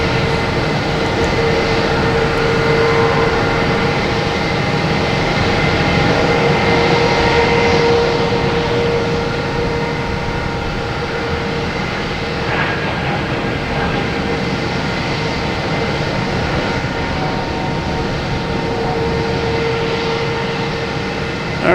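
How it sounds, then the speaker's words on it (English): A JetBlue Airbus A220 takes off at night from Boston Logan, bound for JFK, its engine roar a steady, loud drone that fills the whole stretch. "now we have a JetBlue heading to JFK, an A220."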